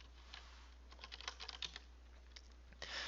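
Keys on a computer keyboard tapped in quick irregular bursts, faint and close in a quiet room over a low steady hum, ending in a short louder clatter.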